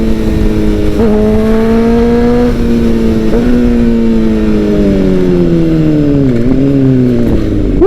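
A motorcycle engine revs steadily at close range, its tone rising and dipping over several seconds with brief blips between throttle changes, loud and continuous with no talk.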